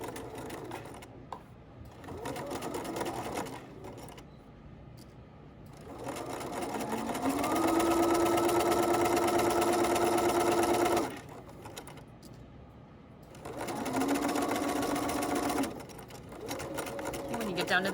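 A sewing machine runs in several bursts of rapid, steady stitching while sewing a patch pocket seam, with backstitching at both ends, close and fairly loud, separated by pauses with quiet handling noise.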